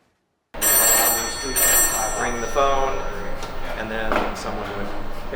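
A 1950s telephone bell rings loudly at a telephone museum in Seattle, starting abruptly in two long metallic bursts with clanks and handling noises in a reverberant room.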